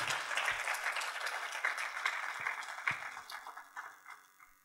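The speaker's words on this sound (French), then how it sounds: "Vous pouvez encore applaudir pour la gloire du Seigneur." An audience at a live art exhibition and music event, held as a worship evening, claps steadily throughout, a dense wash of applause that tapers off toward the end.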